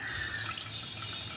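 Mango leaf juice trickling and dripping softly through a sieve, a quiet continuous pour with faint splashes, close by, no voices.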